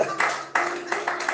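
A church congregation breaks into brief bursts of applause, rising and falling in quick waves over a few moments.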